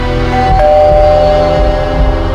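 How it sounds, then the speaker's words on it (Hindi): A house doorbell rings at night in a Hindi crime drama, a loud electronic chime tone sounding once over a dense, steady background bed of drama music. "उस रात हमारे घर के दरवाजे पे एक घंटी बजी।"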